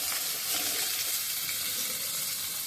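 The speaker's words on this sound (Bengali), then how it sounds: "একবার ভালো করে নেড়ে ধরে আলুগুলো ভেজে নিচ্ছি" Potatoes frying in oil in a pan give a steady, even sizzle that stays dense and constant throughout, with no one talking.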